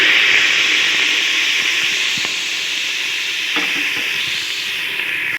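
Onions and tomatoes sizzling in hot coconut oil in a pan for a beef curry, a steady close hiss of frying with a few soft clicks from stirring.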